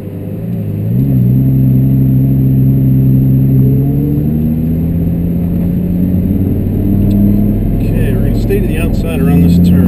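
A Lamborghini on a New Jersey racetrack, accelerating from a standstill in automatic: a steady close engine drone that climbs smoothly in pitch as it builds speed, loud and continuous with an upshift shortly before the end.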